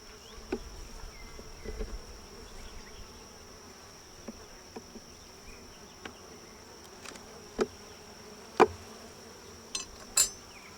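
Bees hum faintly around an opened beehive, a soft continuous buzz broken by a few louder passes of single bees flying close and several small clicks.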